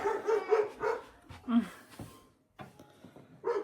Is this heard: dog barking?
yes